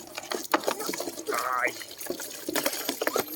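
Water splashes and pours in short bursts while a dog is bathed outdoors on a sunny day, with a brief filling gush midway, as someone talks over it.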